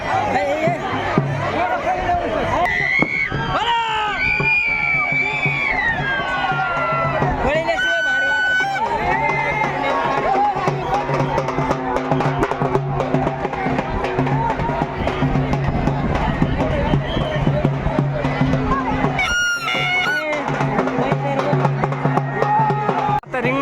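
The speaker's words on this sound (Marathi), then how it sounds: "मध्ये एवढी गर्दी झाली काही कळ नाही कोण चाललंय कोणीकडनं" A dense crowd of pilgrims gathered at a horse ringan during the Bhagwangad palkhi procession, with continuous loud babble, shouting voices and movement throughout, and people talking close by over the crowd noise.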